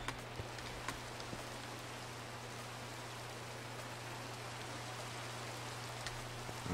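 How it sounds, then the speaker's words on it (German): Steady rain falling in a steampunk video game, a constant soft hiss of drops with a low droning hum beneath and occasional faint ticks, quiet and unbroken. "Und das regnet so doll"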